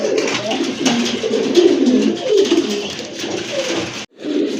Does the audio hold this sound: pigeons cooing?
yes